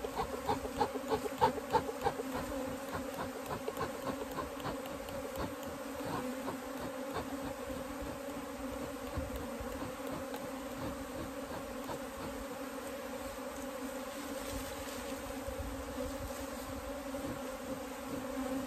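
A dense swarm of bees hums steadily around a beehive box, a continuous loud buzzing that lasts throughout, with a faint rooster or bird audible in the background.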